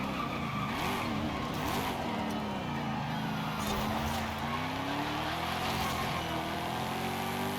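A 2024 Ford Mustang braking hard in Forza Horizon 5, with a loud continuous engine drone and tires squealing and skidding under steady road noise, no talking.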